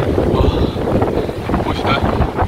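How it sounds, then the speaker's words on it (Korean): Strong wind roars across the microphone during a downhill mountain bike ride, a steady loud buffeting rumble with a voice briefly audible beneath it. "엄청 바람 많이 붑니다."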